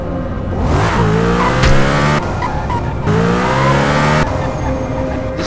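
A car in GTA San Andreas Definitive Edition drives hard with loud engine revving and repeated tire squeals, the pitch sweeping up and down in two long skidding passes.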